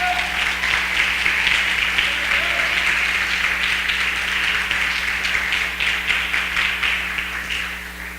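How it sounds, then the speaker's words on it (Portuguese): A church congregation at a live service applauds in praise of Jesus, a full, continuous wash of clapping held steadily for several seconds, with a low background hum beneath and a brief voice early on. "Quem entendeu, aplauda ao Senhor Jesus."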